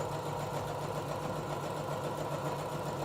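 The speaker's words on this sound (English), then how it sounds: "I'm just going to sew straight down that portion there." A sewing machine runs continuously while stitching straight down a fabric face mask, a steady close mechanical hum and whir with no talk.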